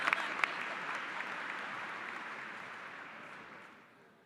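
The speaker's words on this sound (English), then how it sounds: "A round of applause" Audience applause at a high school commencement ceremony, a steady wash of clapping that is moderately loud at first and gradually tapers off toward the end.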